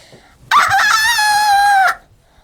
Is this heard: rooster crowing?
yes